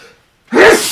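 A single loud, close sneeze bursting out after a brief silence.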